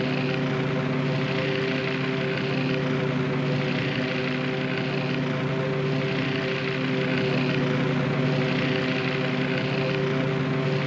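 Steady droning engines of aircraft flying in a naval battle video game, a continuous propeller-like hum with layered tones holding at even volume throughout, with no speech.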